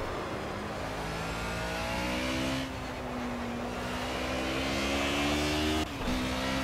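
A Mercedes GT3 race car in Project Cars drives the Nordschleife at the Adenauer Forst section, its engine droning loudly and steadily, revving up through the gears with brief dips at the shifts.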